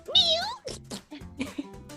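People imitate a cat's meow with their voices, a long rising and falling mew followed by several shorter meows in quick succession, close and fairly loud.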